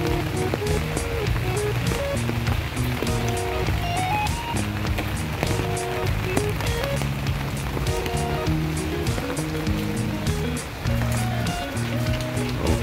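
Rain falls steadily and loudly in a continuous hiss over the whole stretch, with music-like tonal patterns layered on top and no talking.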